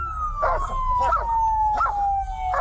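A police dog howls in long, drawn-out wails repeated about four times, each one loud and close, with a steady siren-like tone running underneath.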